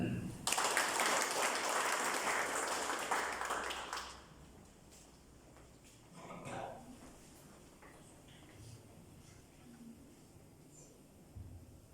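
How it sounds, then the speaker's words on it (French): An audience at a regional political launch event in Mauritius breaks into a loud burst of applause for four seconds, then it stops abruptly, leaving quiet room noise with faint murmurs. "sous applaudissements, docteur Citadina"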